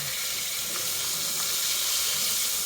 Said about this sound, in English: So we have our last pork chop frying.